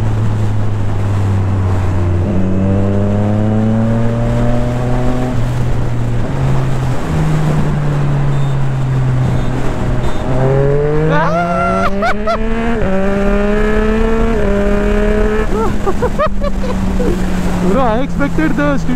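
Triumph Street Triple RS and Harley Street 750 motorcycles in a rolling street race, engines droning loud and close with rising pitch through repeated gear shifts, plus wind rush.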